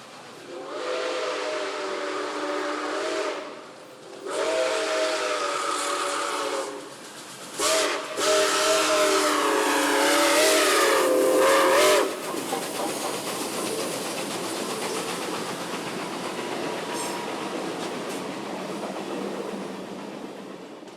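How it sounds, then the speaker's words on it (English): Nickel Plate 765 steam locomotive blows long, loud chime whistle blasts in several bursts, followed by a steady rumbling hiss of the passing train that fades gradually. "Come along with us as we follow 765 on some of her trips and see a big steam engine in action."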